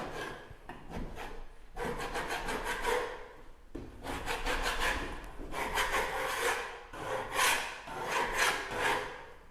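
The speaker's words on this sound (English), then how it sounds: "So what I want you to do is scrape the surface around each hole just to get anything loose off of there." Scraping around anchor holes in a drywall wall with a 5-way painter's tool: rhythmic rasping strokes in repeated bursts, close and fairly loud, with no talk.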